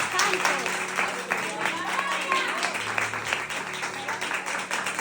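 A church congregation claps during a Spanish-language worship service, steady applause spread across the room, with voices and a sustained tone running underneath.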